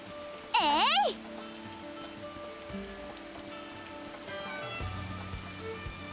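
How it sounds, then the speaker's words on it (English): Rain in the video game Atelier Ryza 2 falls as a steady, soft wash under the game's music, with a brief bright chime-like sound near the start. "It's raining."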